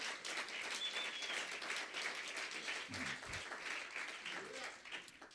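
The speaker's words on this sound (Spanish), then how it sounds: "Un aplauso para el Señor, por favor" A church congregation applauds the Lord during a sermon, a steady wash of many hands clapping at a moderate distance, fairly faint and sustained throughout without a break.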